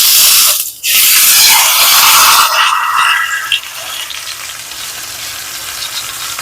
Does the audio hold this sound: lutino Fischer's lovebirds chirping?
no